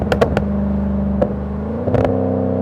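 Volvo S80 with a Yamaha-built V8 and custom exhaust, revving in a second-gear pull: a steady, loud, droning engine note with sharp bursts near the start and again toward the end.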